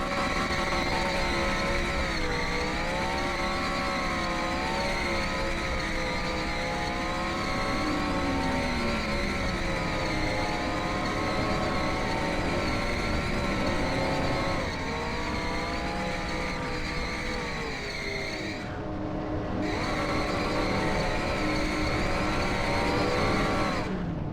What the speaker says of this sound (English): give these tires a last hurrah here and burn down for these fans